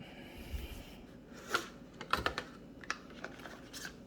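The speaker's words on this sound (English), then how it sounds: "Let's unbox it." Packaging handled while unboxing an official Samsung Galaxy Z Fold3 5G flip cover with S Pen, a few soft close rustles and light clicks over quiet room noise, no talking.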